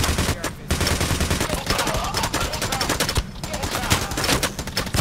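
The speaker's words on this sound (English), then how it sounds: "Okay, he just shot a camera." Rapid bursts of gunfire from a Payday heist game, dense overlapping shots with sharp cracks filling the whole stretch, loud and continuous with brief gaps, a cop shooting out a security camera amid the firefight.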